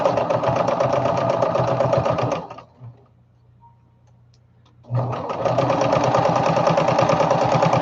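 A sewing machine runs in a fast, steady, mechanical whir, stops for about two seconds of near silence, then starts again just as loud and close.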